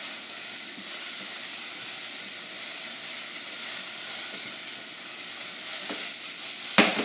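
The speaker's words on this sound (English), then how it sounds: "You want to sweat your onion and your celery so it becomes translucent." Onion and celery sweating in a pan give off a soft, even sizzle and hiss that carries on steadily, with a small clink near the end.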